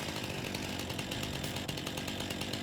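In Farming Simulator 19, a stump cutter's saw blade grinds into a tree with a steady, harsh buzzing whine, heard alone and at an even level throughout.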